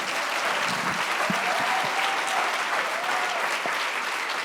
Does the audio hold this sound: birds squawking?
no